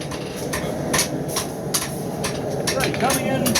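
A hammer strikes a hot knife blade forged from round bar stock, thinning it on the anvil in a rapid series of sharp metallic blows, close and loud over a constant background roar, with a person talking through it.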